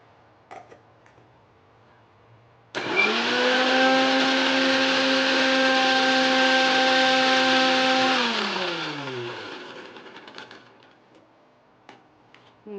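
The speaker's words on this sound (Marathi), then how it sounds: "मिक्सरला वाटून घेऊ." A kitchen mixer grinder whirs steadily for several seconds while blending garlic, ginger, coriander and salt for a spicy mutton curry, then winds down with a falling pitch; loud, close, no talking.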